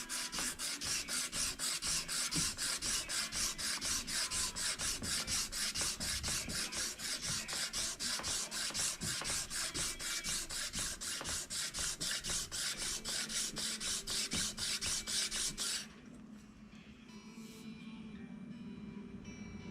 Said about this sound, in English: then I'll hook them to my board here and sand the bevel.